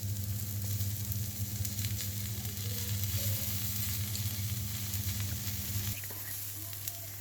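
Dosa with melting cheese and hot pepper sauce sizzling on a hot pan, a steady close frying hiss with a low hum that cuts off near the end.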